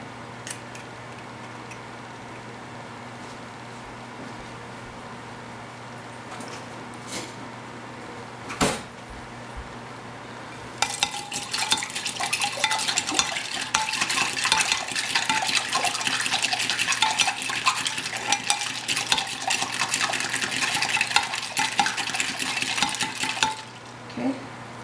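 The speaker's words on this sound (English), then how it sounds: "I'm just going to take my egg and I'm going to break it right here in the water" An egg is cracked into water and whisked for shrimp tempura batter: a quiet start with a few soft taps, then a sustained bright, rapid stirring and clinking in a bowl for about fourteen seconds, close and fairly loud.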